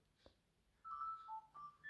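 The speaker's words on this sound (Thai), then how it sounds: "โทรศัพท์ก็ดังอีกแหละ โทรศัพท์รบกวนนะเพื่อนนะ" A mobile phone rings in a large supermarket, a faint melodic ringtone of clear tones stepping up and down against quiet background.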